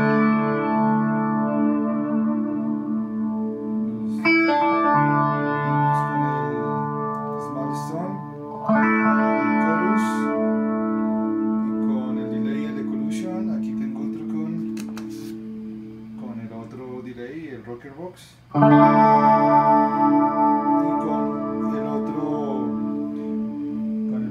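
Clean electric guitar played through a Moen GEC9 effects switcher with a Soul Bridge compressor and reverb, sustained chords ringing out loud and continuously with a chorus-like shimmer, and a new strum about two-thirds of the way through.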